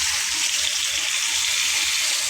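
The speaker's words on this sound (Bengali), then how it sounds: "তো এখন আমি এখানে একটু পানি অ্যাড করে দেব" A splash of water poured onto sautéing potatoes in a pan, a short, loud, steady rush of liquid and hiss close by.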